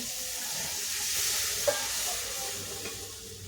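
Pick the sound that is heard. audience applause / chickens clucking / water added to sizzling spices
water added to sizzling spices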